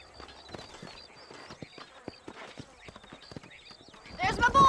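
Horse hooves clip-clop in an irregular patter of light, close strikes in a Red Dead Redemption game scene, ending in a sudden louder, rougher burst of sound.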